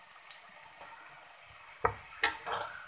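Onions frying in hot oil for a keema dish, a soft sizzle with a few sharp clinks and stirring scrapes near the end, quiet and close with no talking.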